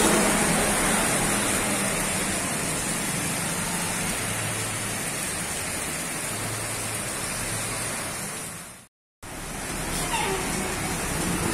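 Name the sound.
rain falling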